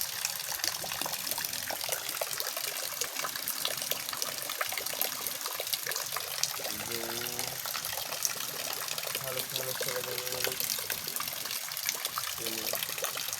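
Steady rain pouring down on a bitter gourd (ampalaya) garden in the rainy season, a dense continuous hiss with trickling water, while someone talks over it.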